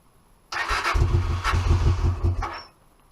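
A cold Honda Bros (Hawk GT) motorcycle engine cranks and fires after a brief silence, catching into a rough, lumpy idle that surges once or twice before easing off, heard close up with no talking.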